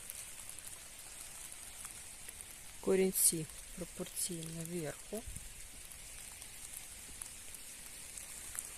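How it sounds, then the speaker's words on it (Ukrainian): Light rain begins falling outdoors during the unpacking of rose plants, a steady soft patter of drops throughout, with a short stretch of talking near the middle. "Ну що, починається дощ"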